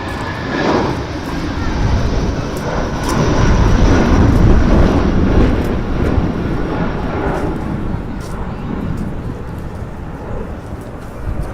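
An airliner at Manchester Airport gives a loud, continuous rumbling roar close by, steady for the whole stretch with wind buffeting the microphone.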